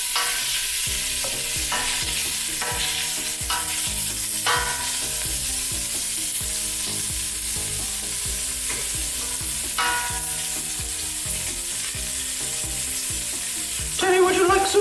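Gumbo frying in a pot at home during dinner prep, a spoon stirring steadily through a continuous close sizzle with repeated scraping strokes, louder clatter near the end.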